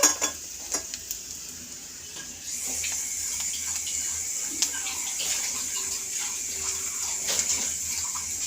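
Running tap water pouring steadily over eggs being washed before boiling, a continuous close splashing hiss with occasional clinks and knocks, no talking.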